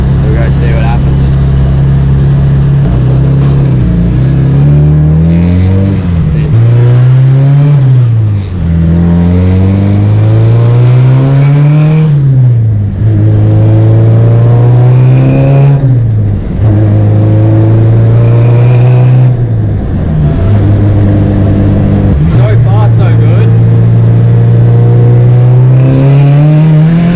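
A Nissan SR20 engine revs hard and continuously up close, its pitch climbing and dropping through repeated throttle blips, with someone talking over the racket.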